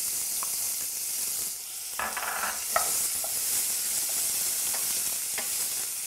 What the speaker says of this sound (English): Now I'm adding onions.